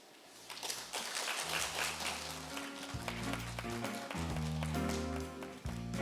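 Audience applause at a 2021 joint religious ceremony in Korea, steady clapping from a crowd heard through a hall, with a low repeating musical tone underneath and faint voices.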